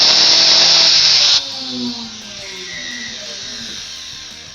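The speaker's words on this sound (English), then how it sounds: "where my not even 2-year-old DeWalt router now sounds like" A failing DeWalt power router, under two years old, runs with a loud high whine for about a second and a half, then winds down into a rougher, quieter rattling spin-down with uneven tones.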